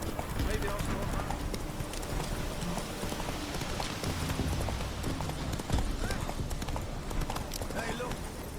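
Hooves of Roach, a horse in the video game The Witcher 3, clip-clop at a steady walking rhythm under voices and ambient game sound throughout.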